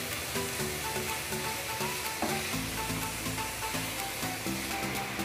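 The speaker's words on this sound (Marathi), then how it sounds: "1-3 ते 4 मिनिट आपण याला फ्राय करून घेणार आहोत" Vegetables stir-fry in hot oil for a chicken soup, a constant close sizzle and crackle with occasional clatter of stirring and a low background tone.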